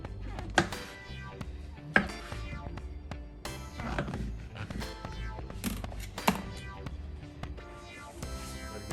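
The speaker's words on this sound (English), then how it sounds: "Now we have these mushrooms. Let me get them open. And we're gonna slice these guys up down too." Fresh mushrooms being sliced with a kitchen knife on a cutting board: a few sharp, distinct knife knocks at irregular intervals over a steady background bed of sound.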